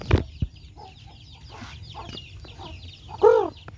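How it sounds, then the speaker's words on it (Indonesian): Chickens and chicks cluck close by in short, irregular calls, with a louder hen cluck near the end and a couple of sharp knocks at the start. "Banyak anak ayam."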